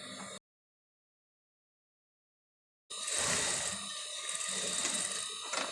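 A sewing machine stitches a half-inch seam joining two pieces of a princess dart blouse, a short burst at the start, then a long pause before a steady, close, continuous whirring run of stitching.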